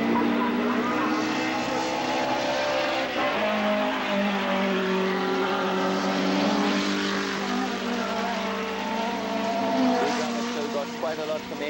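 Classic race cars at Wallerfield, Trinidad, roar past in a sustained, loud engine drone with shifting pitch as the field runs close together, while a commentator talks over it.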